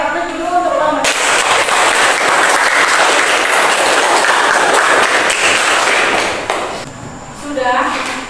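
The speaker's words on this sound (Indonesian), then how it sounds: "Kita beri aplaus dulu untuk ulang." An audience in a school chemistry classroom lesson bursts into loud, dense clapping that runs about six seconds, then fades as a voice resumes speaking before and after it.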